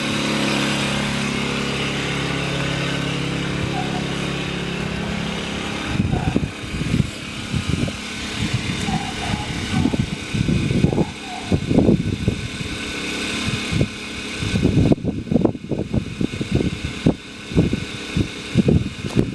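Steady drone of a Kipor IG1000P inverter generator running close by, later buffeted by loud, gusty wind noise that rises over the engine sound.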